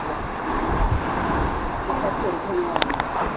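Sea waves rushing and crashing against rocks in a narrow rocky sea gorge nearby at Bamanghal near Hedvi, Maharashtra, a steady roaring surf mixed with gusty wind noise on the microphone.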